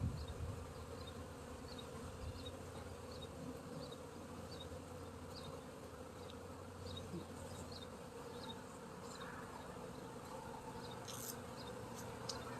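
Honeybees buzz at an opened hive during a Sunday inspection. A dense, steady hum fills the whole stretch, with small high chirps from individual bees near and around it, and no voices.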